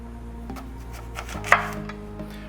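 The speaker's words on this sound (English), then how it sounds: "the apple I'm gonna go ahead and cut in half" A knife cuts through an apple in half on a cutting board, giving a few soft chops and one crisp sharp crunch in the middle over a quiet kitchen background.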